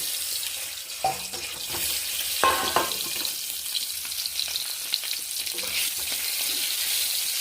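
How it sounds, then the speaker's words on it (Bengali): Whole boiled eggs frying in white oil in a pan make a continuous hissing sizzle with occasional louder spits and a few light knocks from turning them. "ডিমগুলোকে একটু ভেজে নেব"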